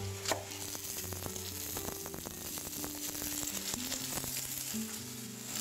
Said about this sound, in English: I'm deglazing the first time.